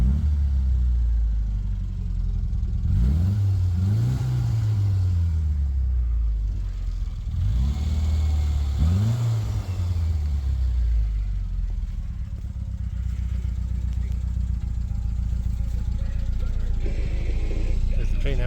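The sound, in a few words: Classic Mini car engine revving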